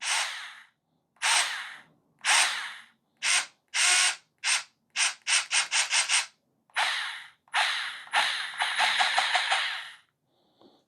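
Bosch GO3 and Hoto cordless screwdrivers drive a screw in a run of short, loud whirring bursts. The bursts speed into rapid ratcheting pulses before a final longer run, and nobody talks.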